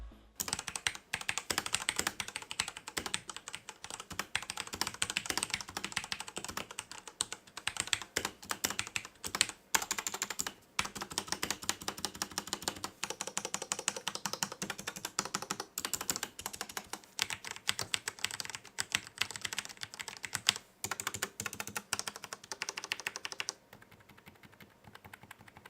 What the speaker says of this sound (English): here's a quick sound sample of the K68's red switches.